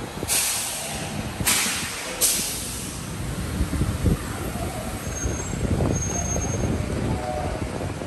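A train pulls into a station near a San Francisco airport, with sharp hisses of air brakes at the start and then a steady rumble and rolling noise as the cars move in. No one speaks.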